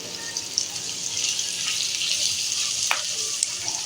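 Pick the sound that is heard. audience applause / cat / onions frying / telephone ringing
onions frying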